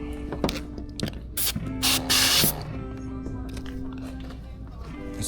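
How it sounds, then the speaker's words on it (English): An alcohol spray bottle puffs several quick misty bursts near a 2026 Ram 1500 during paint protection film work, one long hiss standing out, with light handling clicks and brief talk. "So I'm gonna grab my alcohol, I'm gonna spray this corner here"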